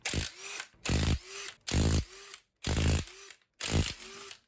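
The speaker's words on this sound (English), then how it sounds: "I'm going to use my impact wrench on setting 3, 21mm socket, impact rated, to get the lug nuts off" Impact wrench on setting 3 with a 21mm impact-rated socket removing lug nuts from a 2012 Hyundai: five loud, close bursts of about half a second each, evenly spaced with short pauses between.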